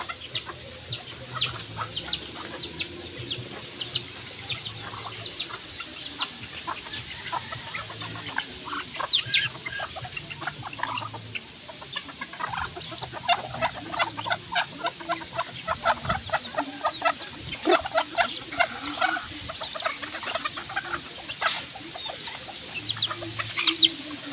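Backyard chickens, kept fowl, cluck softly and repeatedly, with short, scattered clucks rising and falling in a quiet outdoor setting across the whole stretch, with no talking.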